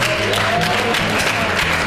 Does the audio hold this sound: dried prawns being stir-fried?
no